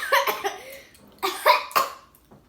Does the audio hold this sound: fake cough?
yes